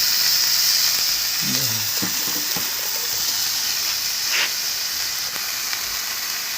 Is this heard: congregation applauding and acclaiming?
no